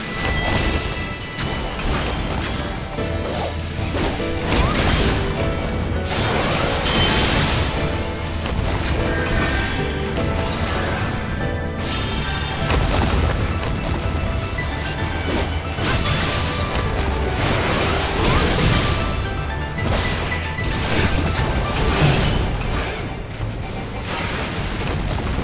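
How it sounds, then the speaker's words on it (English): Video game battle in Final Fantasy 14 as cannons are smashed: repeated loud crashes, thuds and booming impacts layered over dense continuous game effects and music. "It looks like he's destroying those cannons"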